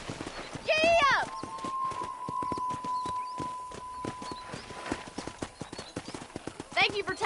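Horse hooves clip-clopping at a run in the Red Dead Redemption video game, with a whinny at the start and near the end, a steady tone held under it and a voice calling out briefly.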